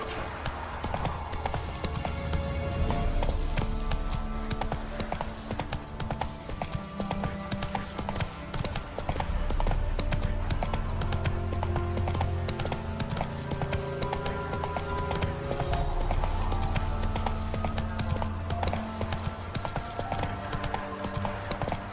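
Roach the horse from The Witcher gallops with rapid, continuous hoofbeats that surge and ease across the stretch, close and steady, over a bed of game ambience and music.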